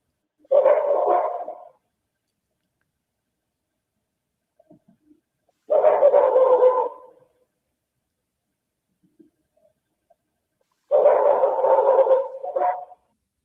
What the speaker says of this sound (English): here come the dog barks